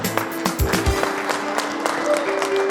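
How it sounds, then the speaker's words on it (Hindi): Audience clapping at a retirement day function at the FCI district office in Ajmer, uneven claps close by with murmured voices and shuffling in the room. "मुझे तालियों में कोई कंजूसी नहीं होनी चाहिए"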